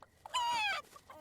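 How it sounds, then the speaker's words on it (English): Baby rooster chick in The Sims 4 lets out a single short, bright clucking squawk, quiet and isolated, with faint small sounds around it. "Oh, it's another rooster. Yeah, this is a little rooster."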